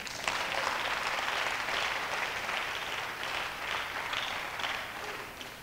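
A church congregation applauds for Jesus during a sermon, a dense, continuous wash of many hands clapping at moderate distance that holds steady and only eases slightly near the end.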